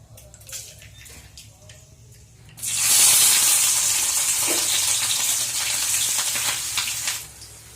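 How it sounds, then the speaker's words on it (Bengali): Onions frying in a pan for a mutton curry, a loud hiss and sizzle that bursts in suddenly after a quiet start, holds steady with faint stirring, then drops away near the end. "পেঁয়াজটা ভাজতে বসিয়েছি"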